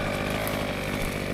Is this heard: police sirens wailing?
no